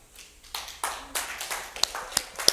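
Scattered clapping from a church congregation, starting sparse and building into uneven claps with a few sharp, close hand strikes standing out.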